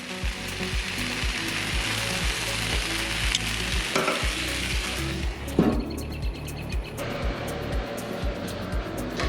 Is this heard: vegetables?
yes